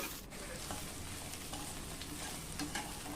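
Sliced okra and onions fry together in a pan, giving a faint, continuous sizzle with a few soft stirring ticks and no voices.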